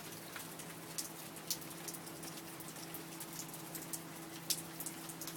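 Steady rain falls outdoors on a cool day, a dense even hiss with scattered louder drops pattering close by, and no talk over it.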